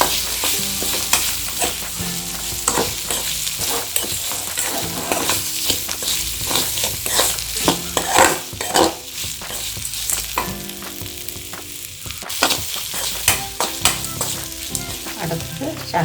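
Prawns for a homemade prawn pickle sizzle loudly in hot oil while being stirred, with a continuous dense frying hiss broken by scraping strokes in the pan throughout.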